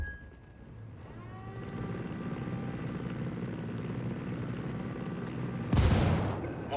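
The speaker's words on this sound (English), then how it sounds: "Helicopter inbound." Steady rotor drone of a helicopter in Ghost Recon Wildlands builds and holds, with a sharp burst of gunfire-like impact near the end; no talking.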